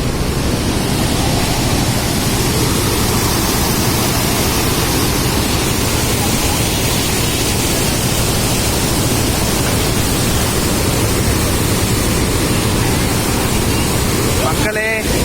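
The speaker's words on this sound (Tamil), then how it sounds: "இதுதான் வீடூர் டேம். தண்ணிலாம் போகுது." Water rushes through Veedur dam in a dense, steady roar that stays loud and unbroken throughout, with no voices over it.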